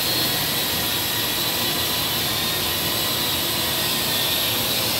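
A Parrot AR Drone flies and turns, giving a loud, steady, high-pitched whine of spinning rotors that fills the whole stretch without letting up.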